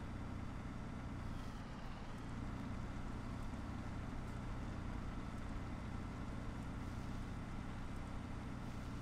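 A Ford F650 pickup truck in a farming video game drives with a steady, continuous engine drone and road rumble at a constant low level, with no talking.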